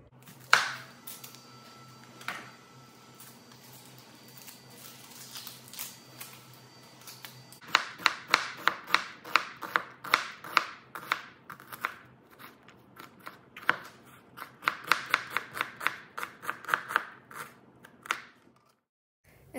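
A knife chops onions on a cutting board: a few scattered cuts, then a long run of quick, sharp, close chops in a steady rhythm that tapers off near the end.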